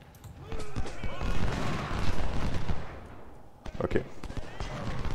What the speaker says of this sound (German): Na gut, gibt's einfach einen Schuss ab